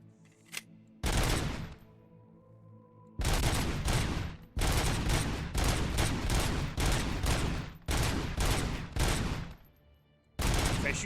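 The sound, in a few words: gunshots at mannequins in video game RoboCop: Rogue City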